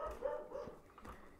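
A dog's short barks and yips sound from another part of the room, fairly faint and distant, in a brief burst of two or three calls.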